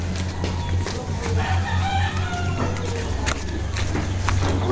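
A rooster crows and chickens cluck inside a backyard chicken coop, close and fairly clear over a continuous bed of low hum and background noise.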